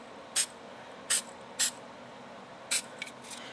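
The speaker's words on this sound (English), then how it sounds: "by now I believe you guys have better control of your spray cans" Spray paint can spraying paint for space-themed art, five short, sharp hissing bursts at irregular intervals, fairly close, with a quiet background and no speech.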